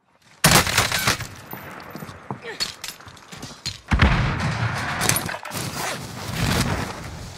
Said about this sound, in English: another grenade explosion plus echo, and a bunch more bullets